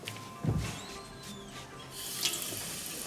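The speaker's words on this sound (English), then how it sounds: "I'm just going to wash my hands" Hands washed under a running tap at a sink, with a steady gentle stream of water and a few splashing bursts, fairly close.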